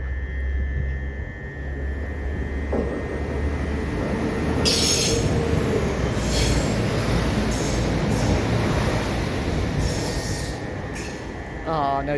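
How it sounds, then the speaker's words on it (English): A train rolls steadily past, with rumbling wheels, clattering over rail joints and brief metallic squeals, loud and close throughout. "once this train's gone through, once we've got the train going through."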